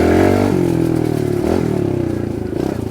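A Kawasaki KLX 110R dirt bike's small combustion engine revs loud and close with a throbbing, pulsing rasp. The pitch dips and picks up again over a few seconds of steady running.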